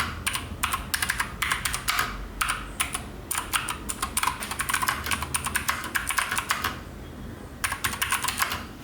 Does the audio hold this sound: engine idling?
no